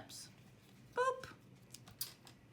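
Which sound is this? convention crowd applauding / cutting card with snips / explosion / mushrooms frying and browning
cutting card with snips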